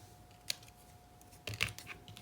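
Scissors trimming a decorative paper border for a Christmas train slimline card, heard as a quiet snip followed by a short burst of crisp cutting and paper rustle.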